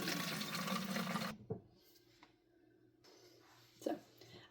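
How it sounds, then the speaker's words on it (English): Tap water pours into a cold brew container in a steady gush at close range, then cuts off abruptly and leaves quiet room noise with a couple of small knocks. "filled the rest up with tap water"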